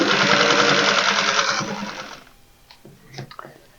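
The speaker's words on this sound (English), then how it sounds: "it would be easier to get these guys stitched together with a walking foot" A sewing machine with a walking foot stitches through thick layers of recycled towel for potholders. It runs in a fast, dense whir for about two seconds, then stops, followed by a few faint clicks and handling noises.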